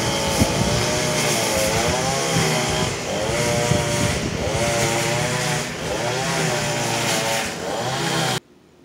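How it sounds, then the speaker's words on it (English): A lawn care machine runs outside, a loud steady engine drone whose pitch rises and falls in repeated sweeps as it works, then cuts off abruptly near the end. "My lawn man's out there making all that noise, so I couldn't talk outside"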